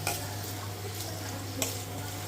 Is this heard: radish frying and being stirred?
yes